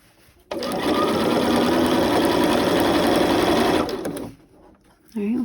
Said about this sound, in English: Make sure to sew at least a few stitches beyond that last set of marks.